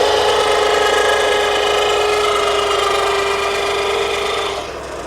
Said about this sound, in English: First to admit that the noise isn't the prettiest with this electric lift